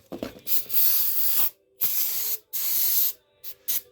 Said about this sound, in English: just take your throttle body cleaner, clean out all the ports, straight in there